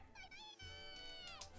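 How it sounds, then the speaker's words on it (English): A faint, drawn-out meowing cry from a Malice Cat monster in the video game .hack GU, with two rising and falling wails in quick succession. "That's a Malice Cat."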